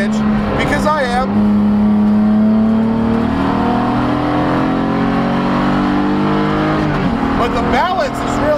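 A BMW E46 330ci Spec E46 race car on a track, its engine droning steadily at high revs as it pulls through a gear, with a brief shift near the end, loud and close under a driver's talk.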